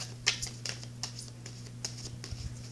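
Oracle cards being shuffled by hand, giving a quick run of light, crisp slaps and taps that patter irregularly for a few seconds over a faint steady hum.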